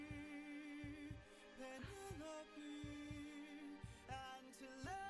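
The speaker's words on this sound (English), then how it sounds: "there's the heartbeat" Heartbeat effect pulsing in a musical track, with repeated low thumps set under sustained synth and vocal-like tones, steady and close throughout.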